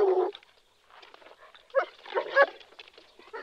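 Dogs barking in a dark rural night scene from a classic horror film, a few rough, scattered barks at moderate distance, uneven and intermittent, with no talking.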